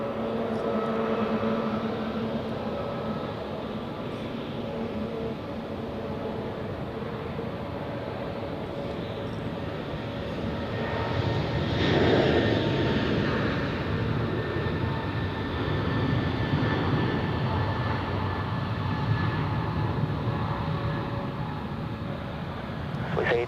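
Swiss airliner taking off from runway 28 at Zurich Airport, a steady broad jet roar throughout that swells louder midway as the aircraft passes, heard from a distance with no talk.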